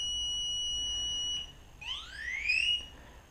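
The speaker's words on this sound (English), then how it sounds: "Now the timer will make an upwards tone" A mass-start race timer holds a steady electronic tone, then breaks into a rising upward sweep of bright tones that climb in pitch before fading, with no one speaking.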